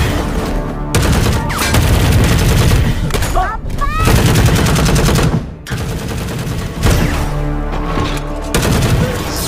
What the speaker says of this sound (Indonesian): penjaga luar angkasa pun datang dan menembak semua yang ada di sana terkecuali anggota geng